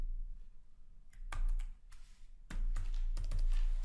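Someone types a password on a computer keyboard, short bursts of close key clicks clustering in two quick runs over a low steady room hum.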